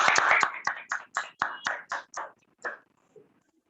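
A few hands clap in a slow, even rhythm at close range, around ten distinct claps that thin out and fade to silence.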